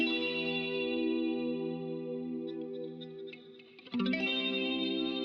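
A synth or instrument part runs through the Baby Audio Comeback delay plugin with ping-pong repeats, sustained tones echoing with a brief dip near four seconds before the repeats swell back in, loud and without speech.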